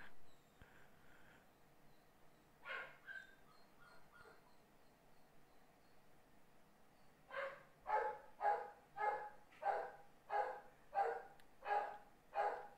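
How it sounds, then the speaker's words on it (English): A dog barks repeatedly and close by, with a steady run of about ten sharp, evenly spaced barks in the second half, preceded by a few scattered yips and quieter sounds. "Sorry about the dog."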